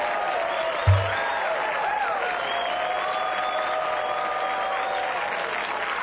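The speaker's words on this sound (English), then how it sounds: "That's a long clap break." A studio audience claps through a long, steady break during a Ronco Showtime Six Star knives infomercial, with several voices talking over the even applause and a single thump near the start.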